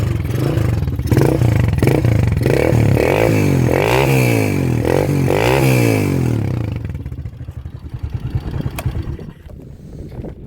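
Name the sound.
motorcycle engine running, freshly repaired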